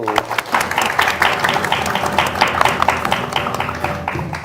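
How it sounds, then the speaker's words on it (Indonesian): An audience of university students in Yogyakarta gives a round of applause at a talk on political dynasties, with brisk, uneven clapping that stays moderately loud throughout. "Tepuk tangan terlebih dahulu"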